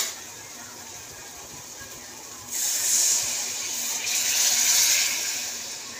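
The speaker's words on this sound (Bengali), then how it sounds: "জলটা দেবো।" Water is poured into a pan of fried spices for a katla fish curry, giving a steady hissing, sizzling gush that swells loudly around the middle and continues to the end.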